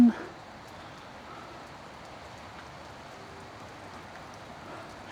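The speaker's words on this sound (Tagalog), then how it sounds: "Lumakas pa yung ulan." Steady rain hisses continuously on surfaces, a dense even wash of sound that fills the whole stretch after a brief opening thump.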